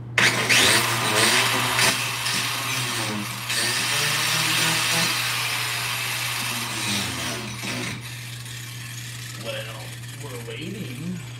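An angle grinder cuts into a Mustang car body, giving a steady droning whine with harsh hissing grit over it, while a person talks throughout.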